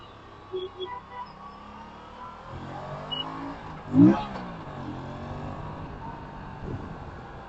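An Aprilia RS457 motorcycle accelerates on a city road in Hyderabad, its engine note climbing in a steady rising sweep, with a brief louder surge mid-way. The sound is close and continuous throughout.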